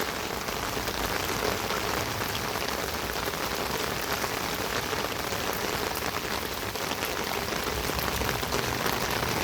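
Steady, dense rain pours down outdoors, a continuous close hiss of drops striking surfaces with no pauses or voices over the full stretch.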